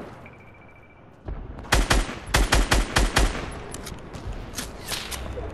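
Rapid bursts of gunfire ring out in the video game Fortnite, a quick string of sharp cracks close together followed by fainter scattered shots.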